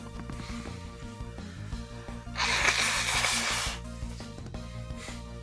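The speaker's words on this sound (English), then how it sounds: "I can blow my nose right now." A person blows their nose in one loud, breathy burst lasting about a second and a half, close to the listener, with faint background sounds before and after.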